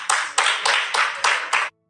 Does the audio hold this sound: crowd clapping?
yes